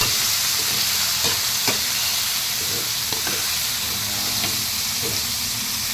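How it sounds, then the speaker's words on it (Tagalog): Ground meat sizzles and fries steadily in a pan, a dense continuous hiss close by with occasional stirring clicks and no talk. "nilagay na po natin yung karne, giniling"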